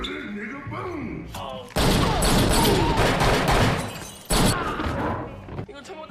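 A film fight scene erupts with a burst of rapid gunfire, loud sharp shots and crashing impacts, then a brief pause before another volley; voices shout before and between the shots.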